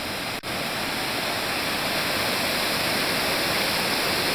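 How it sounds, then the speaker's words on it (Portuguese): Pratinha waterfall in Brazil pours in a loud, steady, dense roar of falling water, close and unbroken, with no voices over it. "essa aqui é a cachoeira da Pratinha."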